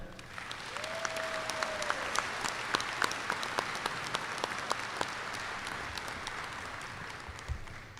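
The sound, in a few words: audience applause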